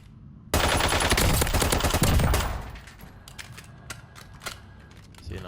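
A Hemlock CQB battle rifle fires in a video game: one loud, fast automatic burst lasting about a second and a half, then a few scattered mechanical clicks and taps.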